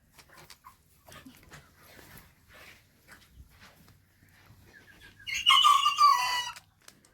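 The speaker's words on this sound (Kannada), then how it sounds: "ಹಂಗಾಗಿ ಕೋಳಿಗಳೆಲ್ಲ ಸೌಂಡ್ ಮಾಡ್ತಾಯಿದ್ದಾವೆ." Chickens near a farm shed: scattered faint clucks and calls from the flock, then a loud close rooster crow rising near the end, with a dog also audible.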